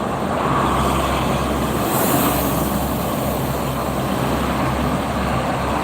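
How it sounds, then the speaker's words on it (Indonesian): Steady broadband road rumble from idling tour buses and heavy traffic on the Cikampek toll road at KM 57, a continuous low engine drone filling the whole stretch without a break. "bis pariwisata kan juga nyala terus"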